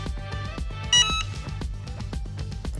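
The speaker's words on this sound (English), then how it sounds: "hold down the preset button and wait for the screen to flash and the beep will sound" A Cricut Autopress heat press gives a short electronic beep as a preset is saved, heard once near the start over a rhythmic background of music.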